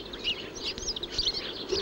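A thrush chirps in quick, bright bursts close by, several short calls over a soft, noisy background with no voices.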